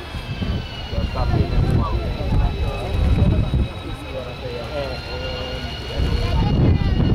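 An AV-8 Harrier jet readies for a short takeoff at the Battle Creek air show, its engine roaring loud and steady with rising whine, while an announcer's voice carries over the crowd.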